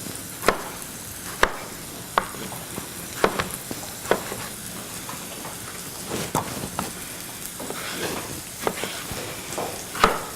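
Onions and garlic frying on high heat, a constant crackling sizzle punctuated by sharp pops and the clack of stirring, close and steady with no talking.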